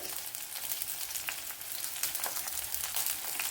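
Chillies, ginger and curry leaves fry in hot oil, giving a steady close crackling sizzle with small pops throughout, with no voices.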